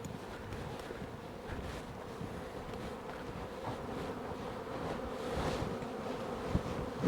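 Honey bees buzz around a hive during late-season robbing, a soft, steady swarm drone mixed with light wind rumble and a few small knocks, with no voices.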